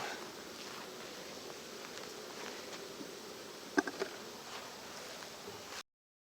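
Honey bees buzzing around a beehive outdoors, a faint steady drone with a couple of soft knocks partway through, ending abruptly in silence.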